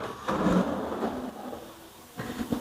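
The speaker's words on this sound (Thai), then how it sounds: "ทำเป็นแบบลิ้นชักแบบรางรับใต้ แล้วก็ ลดแรงกระแทกเวลาปิดนะครับ" A two-tier kitchen drawer on under-mount soft-close rails slides with a low rumbling glide, then moves again with a second, softer slide and muffled thump near the end.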